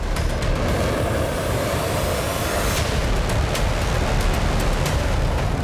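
An F-35 fighter jet roars steadily and loudly with a dense, unbroken broadband rush that continues throughout, with no voices.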